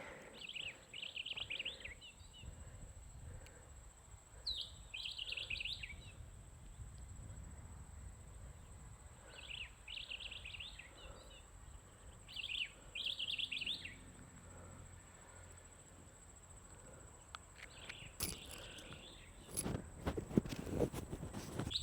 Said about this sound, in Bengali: একটু চুপ পাখির শব্দ শুনতেছেন